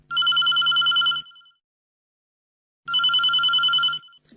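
An incoming telephone call rings twice, each ring a loud electronic trill of about a second, with a clear silent gap between the two rings.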